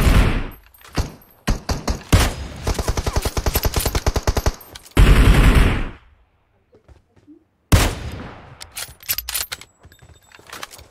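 Automatic gunfire in the mobile battle-royale game PUBG Mobile, loud and close: rapid bursts of shots, a pause, then more shooting with scattered single shots, and brief talk under the gunfire.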